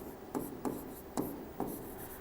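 A pen writes during a math lesson on triangle area, giving four quick scratchy strokes spaced roughly half a second apart, close up over a soft steady room hiss.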